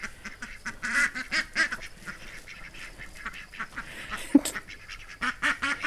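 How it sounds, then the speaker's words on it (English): Ducks quack repeatedly in short, uneven bursts, fairly close and clear, with a few honking calls mixed in and no talking. "There come the ducks."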